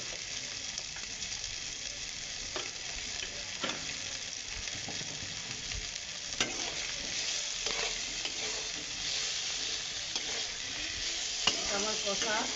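Taro and mung dal fry in a hot pan with a steady, close sizzle, a spatula scraping and stirring through the vegetarian mixture at intervals over the constant crackle.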